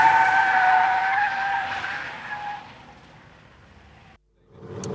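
A car skids sideways on the Silverstone race track at a race school, tires squealing loudly with a sustained tonal screech that fades over a few seconds, then cuts to a brief silence before a faint burst of new sound.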